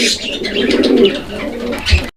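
Fancy pigeons cooing at a breeding loft, low throaty rolling coos repeating close by with a few faint chirps in the background, and no talking.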